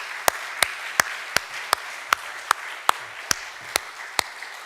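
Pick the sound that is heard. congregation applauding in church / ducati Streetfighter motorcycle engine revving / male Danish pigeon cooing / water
congregation applauding in church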